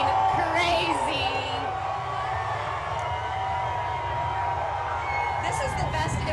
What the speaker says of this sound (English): Oh, the crowd is going crazy.